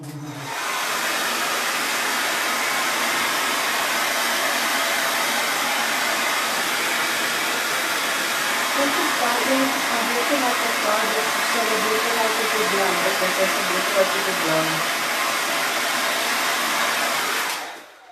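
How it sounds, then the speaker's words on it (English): A hair dryer blows steadily on wet craft blocks, a continuous loud whirring rush for most of the clip that cuts off at the end, with a voice talking faintly underneath. "Maybe just first dry this because it's a little bit wet."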